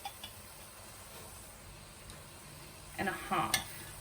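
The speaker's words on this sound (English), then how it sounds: "we're just going to give that a good mix" Ginger garlic paste is stirred in a frying pan over a high flame. A low sizzle runs under a few scrapes and clinks of a utensil against the pan near the end.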